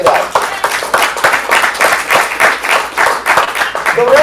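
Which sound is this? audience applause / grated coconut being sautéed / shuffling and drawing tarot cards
audience applause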